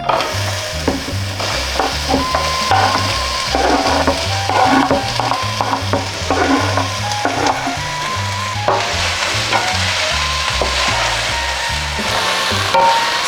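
Onions sweating in olive oil in a pan, made while preparing traditional Serbian burek, give a steady close sizzle with stirring and scraping throughout, no voices.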